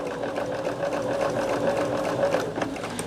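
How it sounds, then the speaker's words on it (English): A sewing machine stitches cotton quilt block fabric pieces, a steady close mechanical whirring hum with a rapid needle rhythm that runs continuously and slows briefly near the end. "But I'm trying to make sure to sew everything."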